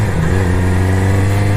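A Yamaha R6 sport motorcycle engine while riding, a steady loud droning hum with strong low harmonics and rushing wind, close to the rider, no talk.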